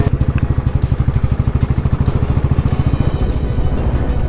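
A Royal Enfield motorcycle engine thumps steadily and loudly up close, its rapid regular low pulses holding an even rhythm throughout, typical single-cylinder beat while riding through Paris.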